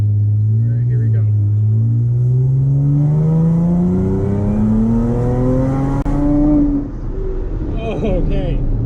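A Chrysler Crossfire SRT6 pulls hard in second gear. The loud engine note climbs steadily in pitch under continuous revving until an upshift near the end drops it, with a voice talking briefly.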